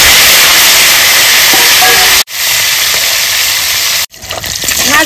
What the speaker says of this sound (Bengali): তেল গরম হয়ে গেছে, দিয়ে দেবো মাছগুলো।